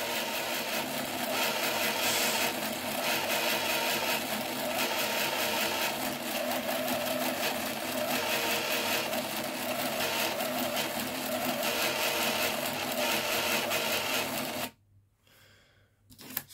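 A ZX81 computer printer runs steadily while printing a document, a continuous buzzing mechanical whir that holds even and loud for about fifteen seconds, then cuts off abruptly, leaving near silence with a faint click at the end.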